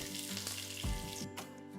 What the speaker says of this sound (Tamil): வெங்காயம் பொன்னிறமாகிற வரைக்கும் வதக்கணும்.